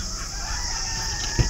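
Chickens, part of a flock of hundreds in a village in Qatar, give a steady, continuous wash of crowing and clucking, with one short, louder burst near the end.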